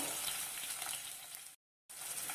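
Spring onions fry in a pan with a dense, bright crackling sizzle that cuts out abruptly for a moment before resuming.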